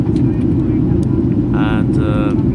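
Ryanair Boeing 737-8AS airliner cabin before landing at night, a steady loud low engine and airflow roar filling the cabin throughout, with brief higher tonal chimes or hums rising over it near the end.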